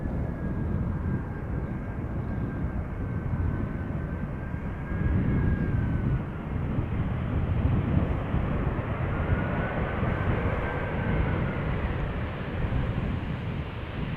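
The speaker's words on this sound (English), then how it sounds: "in the background we have an Embraer 175 from KLM, also arrival from Milan" KLM Embraer 175 jet arriving at Schiphol Airport, a steady broad engine roar from a distance with a faint whining tone drifting above it, continuous throughout and without talk.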